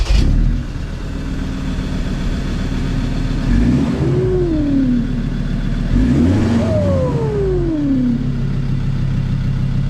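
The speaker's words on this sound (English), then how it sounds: "You can really hear that turbo kicking in that thing" Turbocharged engine of a Ford Ranger on the road, revving up through the gears with rising whine sweeps over a steady loud drone, two clear acceleration pulls.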